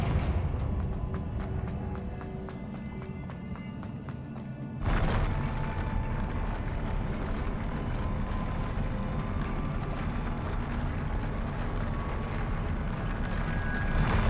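A deep booming blast from the Confringo fire spell in the video game Hogwarts Legacy, hitting suddenly and loudly after a few seconds and leaving a long rumbling roar, with no talking.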